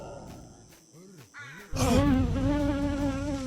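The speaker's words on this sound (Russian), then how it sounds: "Ни хрена себе комаров тут." Mosquitoes swarm in the game STALKER Combined Pack 2.1 (OP 2.1). A whiny buzz wavers in pitch, then swells abruptly into a loud, dense, continuous drone close to the listener, with no speech.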